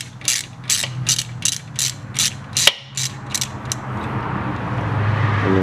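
A ratchet clicks in rapid bursts while bolts come off the thermostat housing of a 1.8T Audi A4 B6, about ten close, crisp pulses with one sharp knock partway through, then a quieter mechanical rustle.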